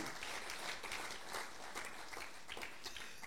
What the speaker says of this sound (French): Est-ce qu'on peut acclamer pour eux l'effort qu'ils font?